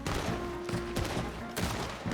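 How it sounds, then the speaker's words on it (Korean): Dense bursts of gunfire from the video game Red Dead Redemption 2 crackle continuously, with several sharper shots standing out in a busy, loud mix. "위쪽에 총소리 바로 뛰어가고"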